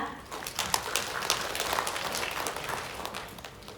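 An audience at a Jeju Provincial Council forum session claps in a dense, crackling wash of many hands, fairly close and sustained, with no voices over it.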